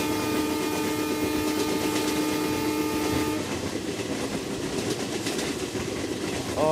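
Padatik Express from Sealdah to New Alipurduar in Trainz Simulator rolls along steadily with loud rail noise and rhythmic wheel clatter. A sustained horn sounds at first, then cuts off, leaving the running train alone.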